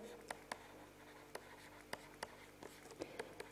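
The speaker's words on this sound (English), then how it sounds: "Let me just write it here." A pen writing on paper during a math lesson: faint scratchy strokes with small taps, soft and close, with no voice over them.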